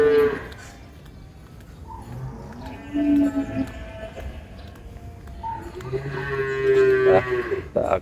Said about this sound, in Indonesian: Ada sapi super, sapi jumbo, simental super, PO super, dan ada beberapa sapi yang lain.